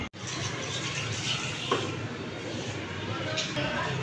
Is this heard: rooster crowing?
no